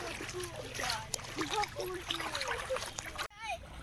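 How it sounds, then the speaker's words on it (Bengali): Two young sisters splash and play in river water, with choppy splashes and gurgling running under lively children's voices and chatter, and a sudden close splash near the end. "প্রায় 1 ঘন্টা ধরে জল ঘাটছে, আর উঠতেই চাইছে না"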